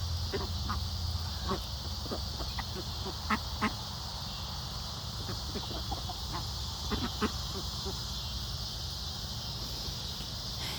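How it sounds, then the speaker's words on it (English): Indian runner ducks quack repeatedly in short, scattered calls over a steady background hum, with some clucking fowl mixed in nearby. "And these ones are Indian runner ducks, which they come in all different colors."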